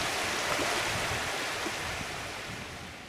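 Mineral Creek flowing along a hiking trail near abandoned mines, a steady broadband rush of running water close by with no voices, easing slightly over three seconds.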